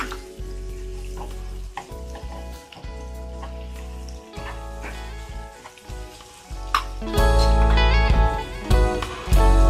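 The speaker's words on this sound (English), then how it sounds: "now saute garlic and chilies until fragrant" Garlic and chilies sauteing in melted butter for a tempeh steak onion sauce, a steady close sizzle with stirring scrapes that swells louder and fuller toward the end, with no talking.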